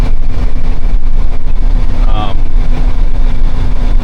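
A rebuilt Peterbilt truck engine runs with a loud, steady low drone and a constant hum from inside the cab while the high-gear truck drives along, with a faint brief whine partway through.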